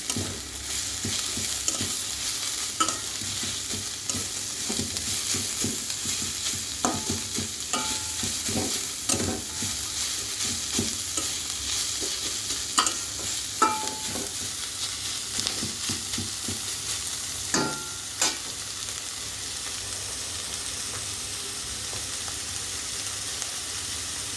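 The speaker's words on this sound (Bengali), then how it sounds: "সেটাও ভাজা হবে, সেটা হলো কিছু সরু করে কুচিয়ে রাখা ক্যাপসিকাম" Thinly sliced capsicum frying in oil for a fish chop filling, with a constant close sizzle and frequent clicking spatula stirs throughout.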